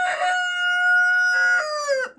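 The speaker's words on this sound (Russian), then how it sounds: "Это все куры там." A rooster from a backyard flock of about fifteen hens gives one loud, close, drawn-out crow with a steady tonal middle and a falling end; no clucking is audible and no one talks.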